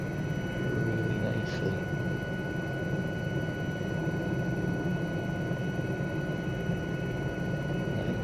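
Continuous rotor and turbine drone of an Aérospatiale SA316 Alouette III helicopter in a flight simulator, a steady, even engine roar with a constant whine throughout.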